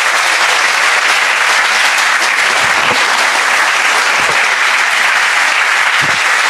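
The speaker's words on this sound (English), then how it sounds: "Please give it up for Mr. Cameron Wurf." A crowd at a triathlon club Q&A in San Diego bursts into sustained, loud, dense applause to welcome a guest speaker, holding steady throughout with only a few faint voices underneath.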